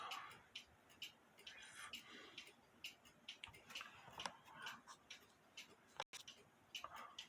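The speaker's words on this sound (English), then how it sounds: "it's an 8-day clock" An 8-day cuckoo clock ticks in a steady, even rhythm, quiet and close, with faint background noise and no talk over it.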